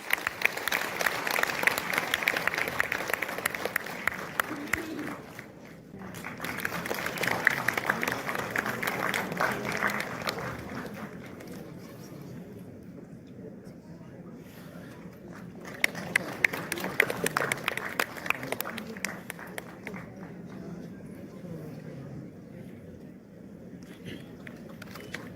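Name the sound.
conference audience applause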